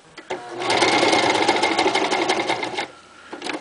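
A Toyota FSG325 industrial sewing machine stitches with #69 upholstery thread in a rapid, continuous mechanical run of about two seconds, loud and close, starting and stopping cleanly.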